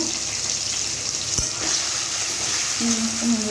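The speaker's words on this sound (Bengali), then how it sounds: "চিংড়ি মাছটা আমি ভেজে নেব" Shrimp fry in a pan with a steady, moderate sizzle. A single sharp click cuts through near the middle, and a faint tonal hum appears toward the end.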